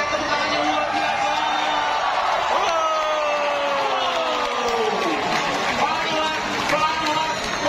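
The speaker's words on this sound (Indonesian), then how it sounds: "Jakarta silakan Anda berteriak dan berikan tepuk tangan yang luar biasa" A large race crowd at the Jakarta Formula E E-Prix in Ancol cheers, whoops and applauds loudly and continuously, while the high electric whine of race cars sweeps past underneath the roar.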